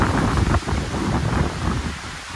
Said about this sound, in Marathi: हवा सुटली आहे. बापरे पाऊस बघा.